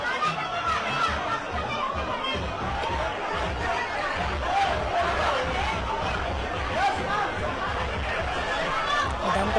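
Shiv Sena workers and Thane office-bearers celebrating at Anand Ashram in Thane after a legislative council win, a dense crowd babble of chatter with scattered laughter, steady and continuous throughout.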